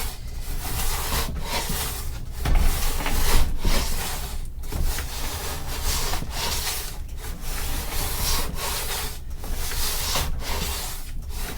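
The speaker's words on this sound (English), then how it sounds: "planing can be therapeutic, but just be prepared to do work, to put some, force behind it." Hand plane worked by hand along a wooden guitar neck, giving steady, repeated rasping strokes with brief pauses between them, close and moderately loud.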